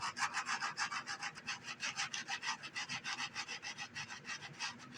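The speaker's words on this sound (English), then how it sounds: "I'm just using a piece of Scotch-Brite." Scotch-Brite pad wet with acetone scrubbing old glue off the frame of a McIntosh 8-inch midbass speaker, a steady rhythmic back-and-forth rasping of quick, even strokes, close and fairly quiet, with no voices.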